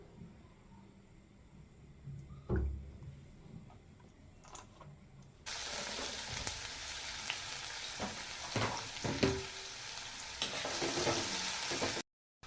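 Onion frying in mustard oil for a fish curry, a quiet stirred start that jumps into a loud, dense, steady sizzle for the rest of the clip.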